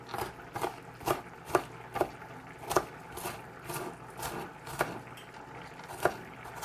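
A knife chopping onions on a cutting board in a home kitchen, steady rhythmic knocks roughly every half second, close and clear with no talking.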